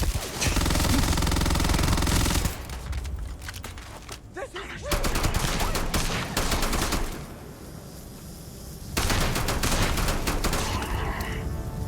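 Rapid-fire rivet launcher blasts in a video game, dense sustained bursts of clattering shots with booms, pausing briefly and resuming several times, loud and close.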